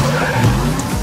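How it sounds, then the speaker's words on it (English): A Lamborghini Centenario skids in a Forza Horizon 3 trailer, a brief loud tire squeal over a steady engine roar. "that's the Lamborghini Centurio"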